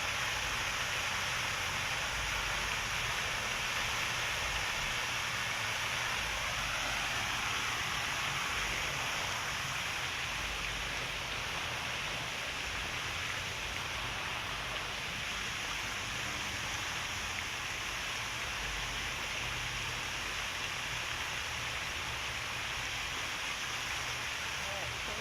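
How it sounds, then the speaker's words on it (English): Steady broadband rush of a waterfall near a memorial shrine, a constant roaring wash of water continuing unbroken throughout at a moderate distance. "We are by the waterfall, as you can see in the background."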